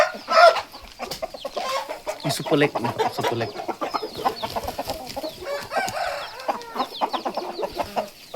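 Chickens, including a bantam, cluck and squawk close by in irregular bursts, with someone talking over them throughout.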